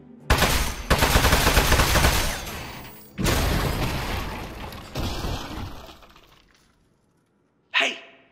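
Weapon fire in the video game Aperture Desk Job, loud bursts of rapid shots in several long volleys close up, then silence and one short sharp burst at the end.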